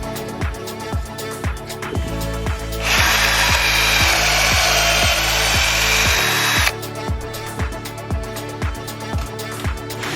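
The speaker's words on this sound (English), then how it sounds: "I'm gonna start cutting out 2x4s for the window boxes." Power saw cutting 2x4 lumber for window boxes in a wood shop: a rhythmic mechanical clatter runs throughout, with a loud, sustained whining cut in the middle lasting about four seconds.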